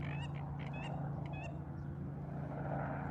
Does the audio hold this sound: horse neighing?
no